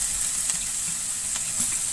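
Curry leaves and small shallots hit hot oil, making a dense, even sizzle up close with a few faint crackles, and no one talking.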